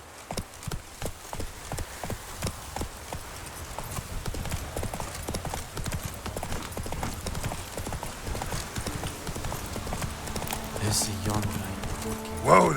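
Roach, the horse in The Witcher 3: Wild Hunt, gallops in a steady run of hoof clip-clops over a constant ambient bed, building slightly before a louder thump at the close.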